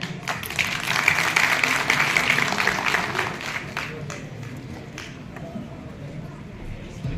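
An audience at a music and painting exhibition event bursts into loud applause that swells in the first few seconds, then thins into scattered claps and room murmur.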